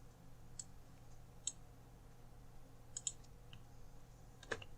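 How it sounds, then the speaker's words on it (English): Computer keyboard keys pressed for a copy shortcut, a handful of faint, sharp isolated clicks spaced irregularly over a quiet background hum. "I'm going to hit Control-C on my keyboard to copy it"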